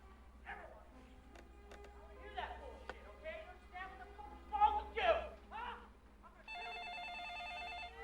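An indoor telephone rings with a steady electronic tone that starts late and keeps going to the end. Before it, quiet bedroom sounds and soft movement can be heard, along with some brief talk.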